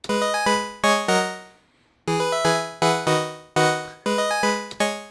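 A bright, buzzy plain sawtooth synth in poly mode plays rhythmic repeated chord stabs, with one short pause midway before the pattern resumes.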